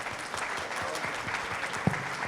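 An audience clapping at a talk during the Rio 2019 book fair, dense steady applause from a crowd heard from within the hall, continuing evenly for a couple of seconds.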